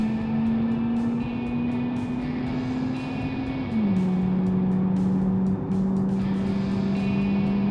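Car in the BeamNG driving game with an Automation-built engine, held on throttle: a steady buzzing engine note rises gently, dips at a gear change, then climbs again, loud and continuous with no talk.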